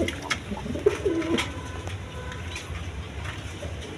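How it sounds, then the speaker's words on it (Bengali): Large pigeons cooing in a loft, a few soft low coos early on against steady background noise and faint clatter. "একদম বড় সাইজের কবুতর।"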